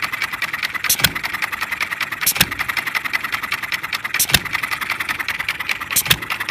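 A half-scale model Perkins hit-and-miss engine running steadily with a fast, even mechanical chatter, broken by a sharp, loud firing pop about every one to two seconds, close and alone.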